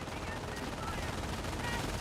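MG42 machine gun firing in Company of Heroes, a steady low-level rattle of automatic fire mixed with battle noise, while a commentator talks over it.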